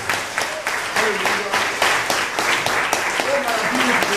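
A church congregation claps during a worship service for ordaining workers, a fairly loud patter of hands mixed with voices and brief sung or called tones.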